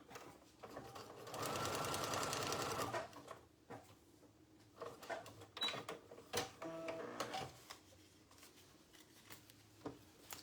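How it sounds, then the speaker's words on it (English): A sewing machine runs a quick line of stitches through a foundation paper-pieced quilt block, a brief close whirring burst of rapid needle strokes, followed by faint handling clicks and rustles. "Pop my stitch in real quick here."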